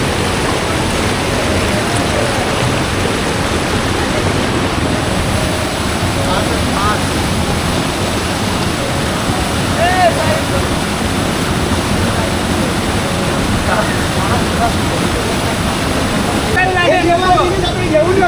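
Strong river water rushes and churns among large rocks, a loud, steady broadband roar throughout with no breaks.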